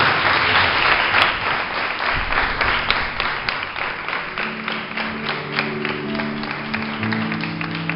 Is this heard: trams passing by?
no